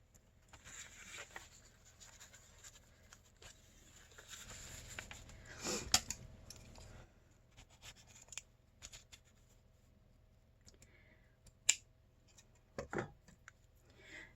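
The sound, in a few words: cutting lace for junk journal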